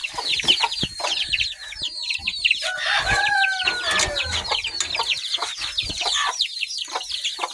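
A backyard flock of chickens clucks steadily and densely at close range while a rooster's crow rises through the middle, the chatter continuing busily throughout without any talk.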